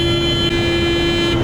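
A car horn honks in traffic as one loud, sustained, steady tone lasting the whole moment, with road noise rumbling beneath it.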